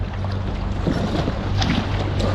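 A packraft paddles into a white water wave train, rushing water and splashing surging continuously up close with wind buffeting the microphone.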